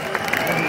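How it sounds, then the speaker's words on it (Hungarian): Crowd applause from a concert audience at a 75th-birthday rock show in the Budapest Sportaréna: a steady, moderately loud wash of clapping and crowd noise across the whole moment, with no distinct voice on top. "Egy nagy tapsot."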